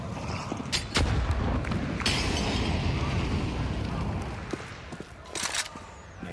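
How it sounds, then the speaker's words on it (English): A grenade goes off during a professional Counter-Strike match at the StarLadder Budapest Major 2025, a sharp blast amid scattered gunshots and rumbling, with a caster speaking over the action. "Nade comes flying down at them."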